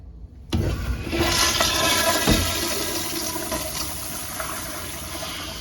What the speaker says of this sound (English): I do see how when it do flush, that water comes and ends up on his toilet seat